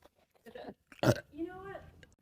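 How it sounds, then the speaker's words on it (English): A deep, drawn-out burp from an adult, loud and close, voiced with a low throaty rumble, preceded by brief breathy vocal sounds. "I've got like a deep burp building."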